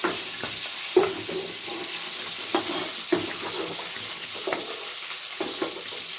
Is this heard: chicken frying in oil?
yes